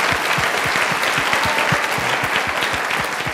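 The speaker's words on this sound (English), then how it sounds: "Give him a round of applause for the point." An audience gives a round of applause at a talk on inclusivity and diversity, a dense, steady wash of clapping that stays loud and even throughout, with no voices over it.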